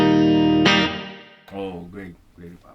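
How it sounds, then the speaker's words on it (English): Electric guitar through a Cornerstone drive pedal with a simple room reverb: a sustained distorted chord rings out and decays, followed by a few shorter plucked notes with a short reverb tail. "Great reverb."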